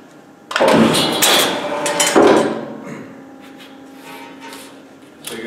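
Knives of a RAPIDO cutting machine trim a narrow strip of material, making two loud, close slicing cuts in quick succession, followed by quieter mechanical handling noise.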